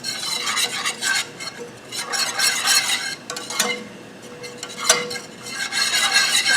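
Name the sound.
whisking flour into oil to make a roux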